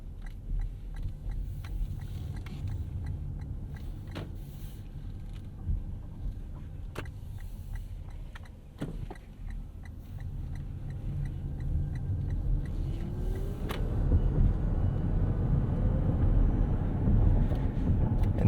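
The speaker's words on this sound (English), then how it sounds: "Taking off, it's just like an EV. It's a little bit of a different noise." 2022 Toyota Mirai hydrogen fuel cell car pulling away, a quiet electric-style whine that rises in pitch as it accelerates, with road noise building toward the end.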